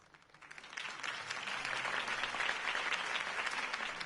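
A crowd applauds after Harvey Dent's campaign speech in Gotham, the clapping swelling quickly from a few hands into a full, sustained ovation, moderately distant.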